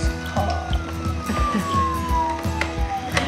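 A Thomas Trackmaster toy police car plays an electronic siren, a sustained slowly falling wail, loud and near, over clicking and rattling toy sounds.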